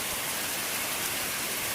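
Moderate rain comes down steadily, blowing in sideways, a dense even wash of patter on surfaces that stays constant and fairly soft throughout, with no voices.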